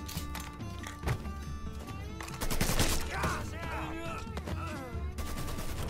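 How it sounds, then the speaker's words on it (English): Gunfire in the video game Mafia 3, heard as repeated sharp bursts and volleys of shots at moderate loudness, mixed with other game sounds. "did you walk right into gunfire in the old days too"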